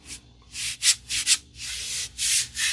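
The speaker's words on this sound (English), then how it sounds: "I'm going to take it to 800 for sanding." Repeated close strokes of sandpaper rubbing a wooden axe handle, a rough scratchy rhythm of short and longer passes with brief pauses between.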